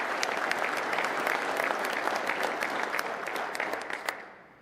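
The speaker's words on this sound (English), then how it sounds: "Please give them a big round of applause" Warm audience applause at a community funding event, dense steady clapping from a room of people that tapers off near the end.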